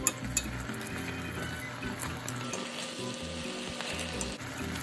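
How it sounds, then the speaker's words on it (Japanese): Chicken liver frying in a pan, a soft continuous sizzle close by with scattered light clinks of utensils against the pan, no voices. "水分が少ないので焦げやすいので注意して焼きます。"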